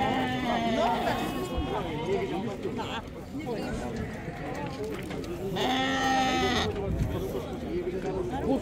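Sheep bleat repeatedly at a Qurbani livestock market in Uzbekistan, nearby wavering cries rising over constant crowd chatter and nearby talking.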